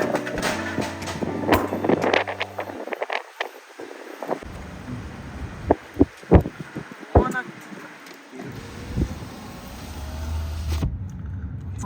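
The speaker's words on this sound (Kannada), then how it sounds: "ಸಡನ್ ಆಗಿ ಜೋರು ಗಾಳಿ ಸ್ಟಾರ್ಟ್ ಆಯಿತು" Strong, sudden gusts sweep across a petrol station forecourt in Ras Al Khaimah, buffeting the microphone with a rushing roar. Scattered knocks and other noises sound over it, and the wind swells strongest toward the end.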